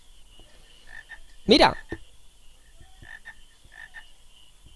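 Frogs croak in a cave passage in Final Fantasy IX, giving one loud, close croak and then soft, repeated chirping croaks in the background. A voice speaks a single word briefly.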